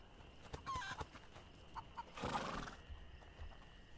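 A horse in the game A Plague Tale: Innocence gives a short whinny and breathy snort amid a few hoof knocks and faint farmyard clucks, fairly quiet against a steady hum.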